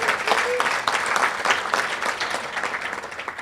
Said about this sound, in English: So feel free to clap.